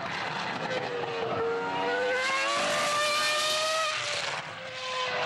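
A Formula 1 race car runs on a track, its high-pitched engine whining as it climbs through the revs, moderately distant and fading slightly toward the end.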